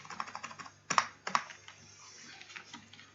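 Keys clatter on a computer keyboard while C code is written, a close run of light clicks with two sharper, louder strokes near the middle, then softer, quicker tapping, no voice.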